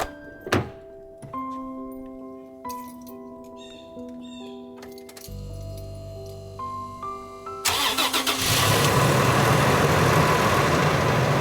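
A truck engine on a Georgia off-road trail cranks and catches after several mechanical clunks and tones, then settles into a loud steady idle as it warms up, with no talking.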